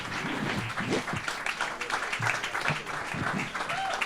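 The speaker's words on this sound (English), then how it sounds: "Give them a big applause" Clapping from the audience at a startup pitch competition final, lively and close, running throughout with bits of voice mixed in.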